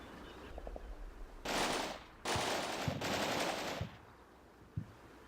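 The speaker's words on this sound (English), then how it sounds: "Machine gun teams are just earning their pay here, doing exactly what they need to, suppressing the whole of that hilltop along the top" Sustained machine gun bursts from teams suppressing a hilltop in the video game Combat Mission: Red Thunder, two long rattling volleys with a few sharp distant shots, moderately loud and without talk.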